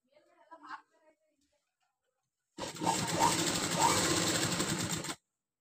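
A sewing machine stitches frills, starting after a short spoken phrase and a pause, then running as a loud, close, steady buzzing whirr for about two and a half seconds before stopping.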